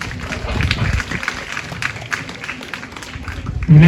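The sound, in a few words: audience applauding at a school ceremony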